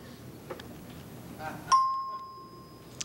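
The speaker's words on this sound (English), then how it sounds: "You can look when you hear the chime" A game show chime rings out once, a clear bright bell-like tone that sustains and slowly fades after some quiet background rustle and faint voices.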